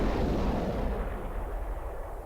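Heavy, booming gunfire and explosions in Epic 40,000: Final Liberation as units fire on an enemy buggy, a dense continuous rumble with no clear separate shots.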